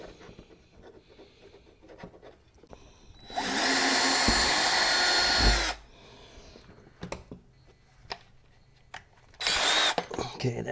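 A power drill boring a hole while a Yamaha golf cart's electric fuel pump is installed. It gives one steady, loud whine of about two seconds and a second short burst near the end, with quiet handling noises in between.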